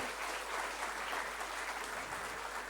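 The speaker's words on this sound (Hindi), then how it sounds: "जोरदार तालियां।" Steady applause from a crowd at an award ceremony honoring soldiers, a dense wash of clapping that holds evenly throughout without pause.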